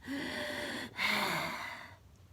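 A voice imitates heavy monster-like panting: two long, rasping breaths, the second louder and harsher, then a brief trailing silence.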